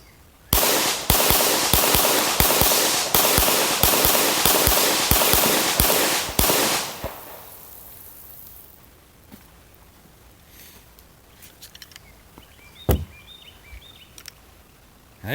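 A Glock pistol fires a rapid string of about a dozen sharp, loud shots outdoors on a ranch, then stops, leaving quiet ambience with faint birdsong and a distant pop.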